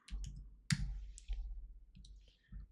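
A computer mouse clicks a handful of times at close range while creating a new folder, crisp isolated clicks separated by short pauses in a quiet room.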